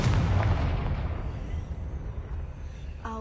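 Spell blasts from a Hogwarts video game, Bombarda and Confringo, land as heavy booms at the start and then trail into a long rumbling tail, with a brief voice-like tone right at the end.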